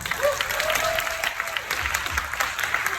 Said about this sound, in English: I think she deserves the loudest applause.